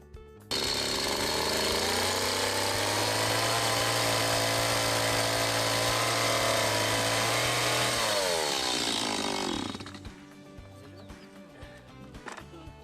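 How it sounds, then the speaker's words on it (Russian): A gasoline chainsaw cuts wood, running loud and steady for about nine seconds with a droning buzz, then bogging down in pitch before winding down to idle clatter and quiet. "Под руководством приемного папы Алеша учился работать бензопилой."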